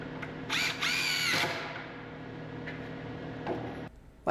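A power drill drives screws to install wooden support braces under a plywood tabletop on a saw outfeed table, with a loud whining burst near the start followed by quieter workshop ticking and handling noises.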